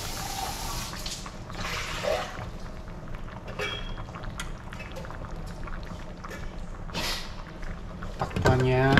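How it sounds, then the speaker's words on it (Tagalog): A container being washed under running water at a kitchen sink, steady splashing flow throughout with clinks near the end, close and moderately loud. "Hugasan natin tapos ilagay sa recycle."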